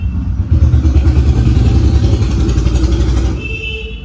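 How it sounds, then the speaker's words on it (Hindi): A Royal Enfield Bullet motorcycle rumbles past nearby with a loud, steady, low thumping exhaust that holds for a few seconds and then starts to fade. "जैसे अभी भरवा बुलेट वाला निकल रहा है।"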